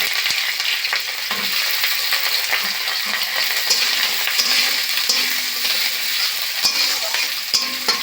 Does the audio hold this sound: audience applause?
no